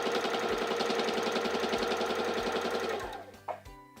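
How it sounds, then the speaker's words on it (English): A Singer 3337 sewing machine stitches fabric in a fast, steady mechanical chatter under foot-control power. It runs loud and close for about three seconds, then winds down and stops, followed by a brief clunk. "you want to just press down on your foot control to start sewing"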